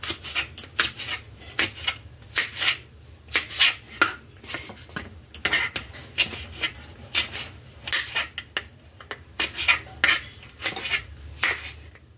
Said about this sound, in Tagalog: So, hinihiwain din natin yan ng manipis para mas mabilis natin maluto ito.